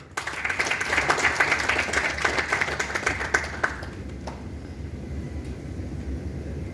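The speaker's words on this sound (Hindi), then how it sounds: "तो एक बार आप लोग सभी लोग एक बार जोरदार तालियों से 4 बेसिक का स्वागत।" An audience in a hall gives loud applause to welcome a group onstage, a thick burst of clapping for about four seconds that fades into scattered claps and room noise.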